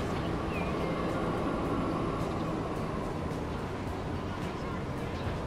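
A freight train runs in the game Transport Fever 2 with a modded Swiss Alps railway, slowing under a brake mod; a dense, steady rolling rumble holds at an even level throughout.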